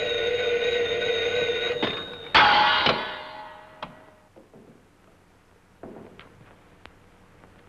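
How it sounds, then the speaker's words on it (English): An old 1930s telephone bell rings in a steady metallic tone for about two seconds, then gives way to a clattering thump and a scatter of quieter ticks and knocks in a room. "I think the phone's ringing."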